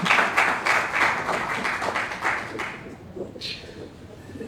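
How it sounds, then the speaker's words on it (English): An audience at a conference session claps in a burst of applause that thins out after a few seconds. A faint voice follows as the clapping fades. "Let's give her a round of applause,"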